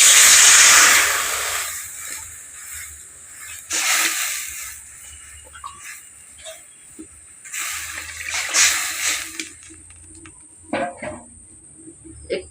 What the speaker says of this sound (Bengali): এখন জলটা আমার ফুটে উঠেছে